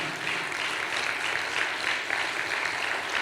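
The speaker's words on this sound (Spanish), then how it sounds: "Cerrado el aplauso si se entendió lo que acabo de decir, amado hermano" A congregation applauds during a Spanish-language church sermon, a dense, even wash of many hands clapping at once, sustained and fairly distant, with no voice over it.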